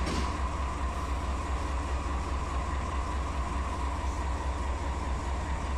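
A 12,000-ton coal train in the Run 8 Train Simulator game rolls steadily on the tracks around a curve, a continuous heavy low rumble with a faint whine and no talking.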